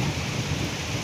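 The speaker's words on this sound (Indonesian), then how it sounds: "ini hujannya terlalu deras" Heavy rain pours down with thunder in a storm, a dense, steady, loud roar with no pauses over a brief moment.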